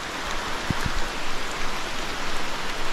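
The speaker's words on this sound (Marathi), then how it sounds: "डायरेक्ट पावसाचं पाणी विहिरीत पडतं." Monsoon rain falls steadily near a well in an areca nut garden in a village, an even close hiss of rain with a couple of brief thuds early on.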